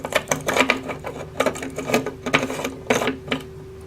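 A fuse carrier with a glass window is screwed into a vintage Continental European fuse box, producing a close run of quick, irregular clicks and scraping ticks from the threads turning.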